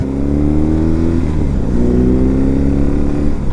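A motorcycle fitted with a windscreen rides along a road, its engine a steady loud drone with a slight pitch dip partway through as it shifts, heavy rumble and wind up close.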